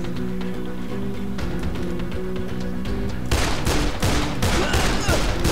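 Rapid bursts of gunfire in the game Dead Island, a steady crackle that grows denser and louder partway through, with no voices over it.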